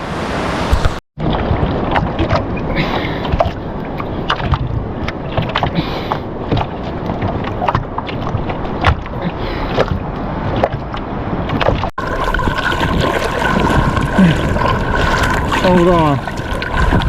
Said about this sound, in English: here's the ocean right here